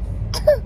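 One short, close cough-like clearing of the throat, ending in a faint squeaky vocal sound.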